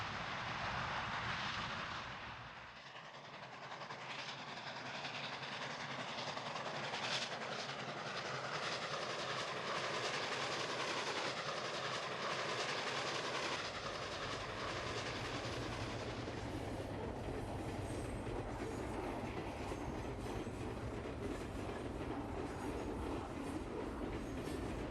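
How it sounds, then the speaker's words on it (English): A brass Samhongsa model of an R2 articulated steam locomotive hauls a heavy freight train on a model railway, giving a steady rolling rumble and clatter of wheels that holds at an even level for the whole stretch, no voices. "The mighty R2 heads a heavy freight train from Woodstock via Prestonville Yard onto Hamilton."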